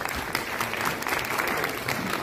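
Audience applause at a youth festival prize distribution ceremony in Kohima, a steady, dense burst of clapping throughout with no voices standing out.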